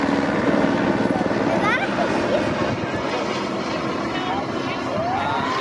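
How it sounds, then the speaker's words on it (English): Baltimore City Police AS350 helicopter flying overhead at an airshow, a continuous loud rotor and engine drone with brief rising and falling siren sweeps, while a person talks over it. "You hear their siren, they're already having fun up there"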